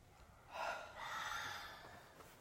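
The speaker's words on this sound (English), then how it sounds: "take a deep breath" One faint, slow, deep breath is drawn in and then let out, a soft airy rush heard alone and close.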